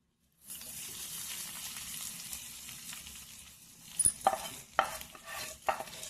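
A tempering of curry leaves and turmeric sizzles steadily in a pan for nalleru (veldt grape) chutney, a continuous hiss joined near the end by a few sharp clinks of stirring against the pan.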